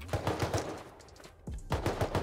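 Gunfire in the video game Rust rings out as steady rhythmic shots, a run of evenly spaced bangs, a short lull, then another quick volley, loud and close with no talking.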